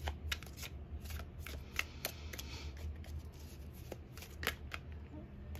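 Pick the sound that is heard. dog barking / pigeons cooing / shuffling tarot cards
shuffling tarot cards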